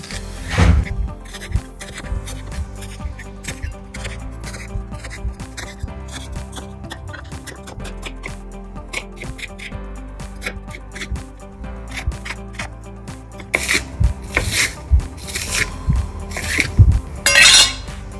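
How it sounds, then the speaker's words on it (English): A knife chops an onion on a kitchen cutting board, giving irregular sharp taps and clicks that come in quick bursts over a steady background hum, with other kitchen clatter. "Let's chop up the onion."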